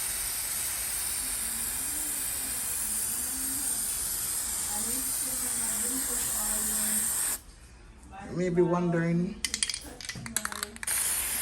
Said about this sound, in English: why I'm spraying it white